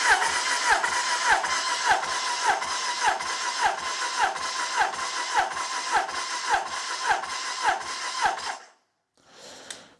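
An engine with its spark plugs removed and no fuel in the carburetors cranks over during a compression test, a steady rhythmic starter chug of about sixteen even beats, close and loud, stopping abruptly near the end.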